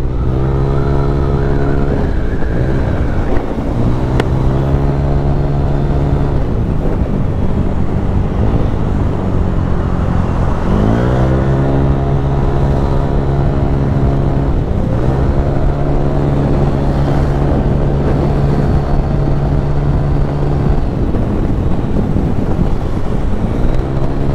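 A motorcycle rides at night through heavy car traffic on Magallanes, its engine droning loud and close with repeated rising revs and gear shifts amid wind noise.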